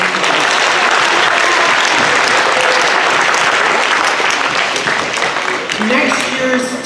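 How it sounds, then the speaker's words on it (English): Sustained applause from a school awards-hour audience, loud and dense throughout, with some voices rising above the clapping toward the end as it begins to thin. "So let's give her a real round of applause."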